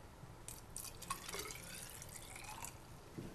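Water poured into a container during a chemistry miscibility demonstration makes a faint, continuous liquid trickle with small splashy drips, heard alone in a quiet room.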